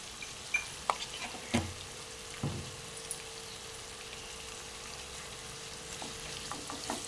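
Onions sizzle steadily in ghee for a biryani, turning golden, with a broad hiss and a few sharp clicks and stirring scrapes near the mic, no voices.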